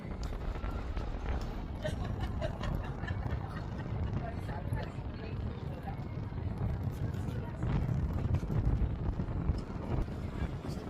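Steady wind buffets across a quiet seaside street on a cool evening, a continuous broadband rush with gusts swelling and easing throughout.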